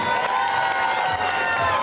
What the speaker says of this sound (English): Ladies and gents, give them a big, big round of applause.